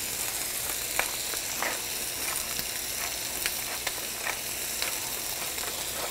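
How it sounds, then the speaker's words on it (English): Steady crackling sizzle of skin-on meat frying skin side down in a pan, close and continuous, with scattered louder pops and spatters. "skin side down. Hear that sizzle?"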